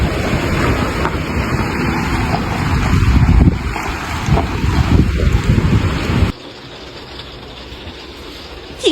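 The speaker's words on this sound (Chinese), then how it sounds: "住在海边第7天，遇到了大风暴雨" Strong wind and a rainstorm buffet a camper van parked at the seaside, a loud continuous roar with gusts battering the microphone, then abruptly dropping to a quieter, steadier rushing.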